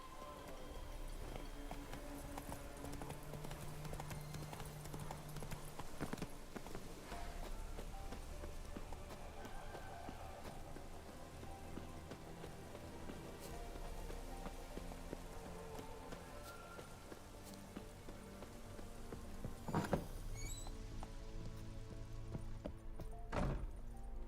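Horse hooves clip-clop steadily while riding in The Witcher 3, a close, even rhythm under constant game music and ambience, with a brief louder thump late on.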